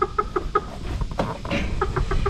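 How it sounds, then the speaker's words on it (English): A farm rooster calls in a string of short, clucking bursts close to the mic, pausing midway for a scratchy rustle before the rhythmic clucks return. No talking is heard. "This rooster right here"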